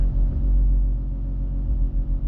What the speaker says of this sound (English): I hear the compressor. The compressor is definitely on,